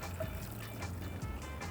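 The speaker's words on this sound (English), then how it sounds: "we're going to pour this into the iconic Hurricane glass" Pink rum Hurricane cocktail pours steadily into an iced Hurricane glass, a continuous close liquid trickle over ice.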